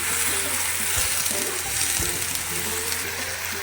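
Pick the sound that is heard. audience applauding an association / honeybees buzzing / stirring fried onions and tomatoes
stirring fried onions and tomatoes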